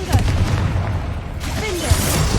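A Confringo blast spell cast in a Hogwarts video game: dense, rumbling booms and crackling effects rolling steadily through the clip, with a heavier thump near the end and faint voices mixed in.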